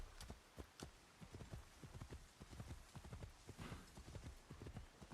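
Hooves clip-clop in a quick, steady rhythm against a constant background hiss, like a horse trotting along a road, in the video game Assassin's Creed Shadows.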